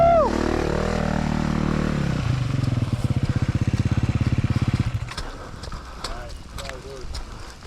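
Kids' motorbike on muddy trails in pouring rain, its small engine revving and pulsing close by as it rides, while people talk and call out over it.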